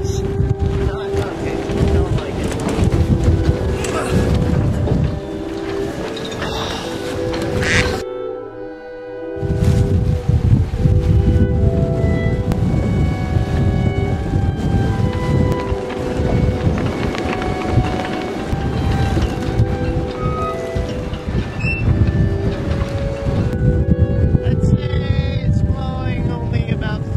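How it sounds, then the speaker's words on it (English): Strong gusting wind buffets a sailboat moored to cement posts and cleats in an Icelandic harbour, roaring steadily across the microphone with a brief lull partway through, while rigging and hull noises rattle underneath. "It is f***ing windy."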